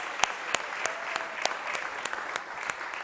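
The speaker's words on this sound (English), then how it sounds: "let's make some noise one more time for Fran" Applause from an audience at a city press conference recognition event for basketball coach Fran Dunphy, a steady moderate clapping with a few sharp, evenly spaced claps standing out near the microphone.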